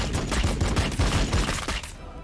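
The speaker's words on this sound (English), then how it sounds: "Firing on the enemy." Rapid volleys of gunfire from a Warhammer 40K Battlesector battle, dense repeated shots in an uneven rhythm, loud and close, fading out near the end with no talk.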